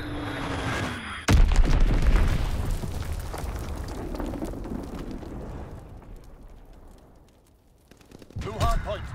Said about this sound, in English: Enemy strafing run inbound. Fall back. Enemy bomb incoming.